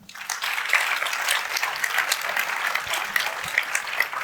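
Audience applause at an e-health conference on Réunion, a dense, steady burst of clapping from a crowd filling the room for several seconds.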